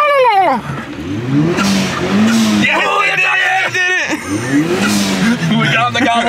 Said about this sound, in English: you hear it skid?